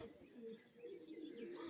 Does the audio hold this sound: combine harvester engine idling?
no